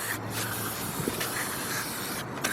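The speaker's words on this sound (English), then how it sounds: "just gonna spray those, get that old oil out of there" A steady aerosol spray of brake parts cleaner hisses continuously at close range on an upper intake manifold gasket area, with brief pauses and short sputters of the nozzle.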